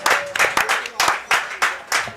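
A small group claps for Booster Club volunteers at a baseball coach's show, a few close, irregular bursts of clapping with voices mixed in.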